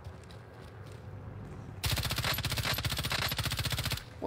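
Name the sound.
M13 gunfire in a video game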